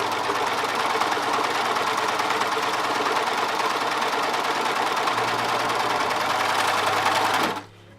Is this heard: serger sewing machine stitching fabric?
yes